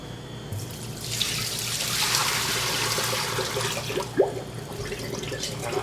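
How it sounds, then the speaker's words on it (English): Sanitizer solution pours steadily into a Stoelting F-231 frozen yogurt machine, a rushing stream of liquid that swells for several seconds, then fades after a brief splash near the end. "we're going to pour roughly a gallon at each side."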